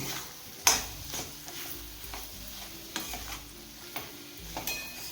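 Spices being stirred into a tomato masala for matar ka nimona in a pan, with a spoon scraping and clicking at a steady, repeated pace over a soft sizzle close by.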